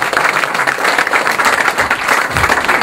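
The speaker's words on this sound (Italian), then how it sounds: "Un applauso al parroco." Loud, close audience applause in a hall, thick continuous clapping with a slightly pulsing rhythm, a few louder claps near the end and no clear talking.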